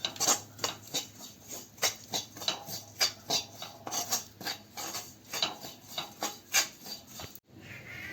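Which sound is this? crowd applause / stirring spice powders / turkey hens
stirring spice powders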